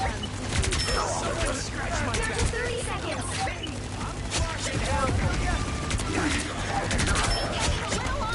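Rapid gunfire bursts from the shooter game Marvel Rivals, dense crackling volleys and impacts repeating throughout, layered with game effects and someone talking over the action.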